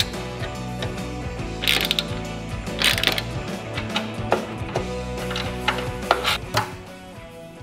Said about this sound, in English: I'm gonna use actual clamps to hold this in place